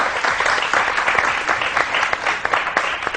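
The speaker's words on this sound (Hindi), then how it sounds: "बहुत सारी तालियां" Studio audience at a morning TV game show claps steadily and loudly, a dense wash of many hands filling the whole stretch without any talk.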